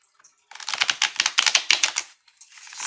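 Playing cards are riffled and shuffled in quick, crisp bursts of clicking and flapping, close and loud, with short pauses between rounds and no talking.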